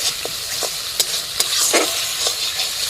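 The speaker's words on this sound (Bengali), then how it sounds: "পালংটা একটু ভেজে নিতে হবে" Spinach paste frying in hot oil in a pan, a steady close sizzle broken by a few sharp spatula taps and scrapes against the metal while it is stirred, with no talking.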